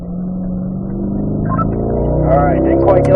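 A car on a race track pulls hard after a shift into third gear, its engine note climbing steadily in pitch and loudness over a few seconds, close by with a brief voice over it.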